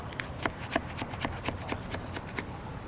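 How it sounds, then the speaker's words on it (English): A plastic scraper strips old adhesive gunk off the wall of a 2007 Four Winds RV in a series of short rasping strokes, about ten of them, close and fairly steady, with no talking. "So I'm just gonna take a plastic scraper here, strip all that off"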